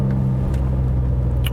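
A 2019 Ford F-150 Raptor's twin-turbo V6 idles or cruises in sport mode with a steady, loud, low rumble, heard close from inside the truck.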